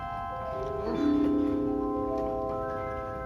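Original 1920s harp and celesta stops on a huge 1922 Skinner / 1950 Möller pipe organ play bright, sustained, bell-like notes, a lower tone swelling in before higher tones carry on, clear and close, no talk.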